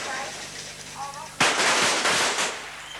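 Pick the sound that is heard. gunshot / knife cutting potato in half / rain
gunshot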